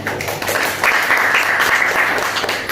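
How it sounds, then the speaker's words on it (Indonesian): A group claps steadily in a dense patter of applause, moderately loud and continuous throughout. "tepuk tangan buat kalian semua"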